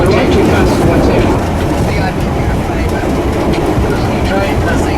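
Silver Fern railcar running on rails between Dunedin and Christchurch, heard from on board as a loud, continuous rumbling roar of wheels and track with faint clicks throughout.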